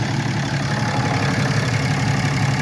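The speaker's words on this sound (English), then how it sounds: "Okay, with the motor running." A 2017 Dodge Ram 3500 pickup idles with its hood open, a steady, loud, close engine rumble with no change in pace and no talking.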